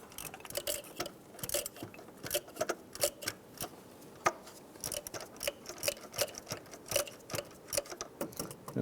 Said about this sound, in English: tighten these bolts down evenly